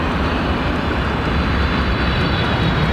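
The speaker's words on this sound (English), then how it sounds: "I'm landing on this runway." Aircraft landing on a runway at London Heathrow Airport, a steady, loud broadband engine roar that holds constant throughout without any talk.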